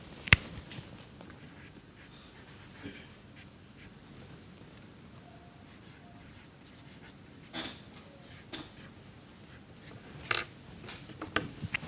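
Pen or chalk scratching while an equation is written out by hand, quiet intermittent strokes with a few louder taps scattered through the stretch, no talk.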